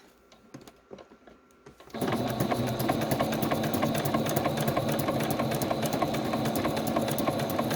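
A sewing machine running a straight stitch around a primitive journal tag, a steady fast mechanical whir after a few quiet handling clicks, close and continuous to the end.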